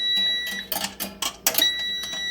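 A high electronic beep tone from a Power AirFryer Pro Plus sounds steadily while a few sharp clatters and knocks of handling its rotating basket interrupt it, close by.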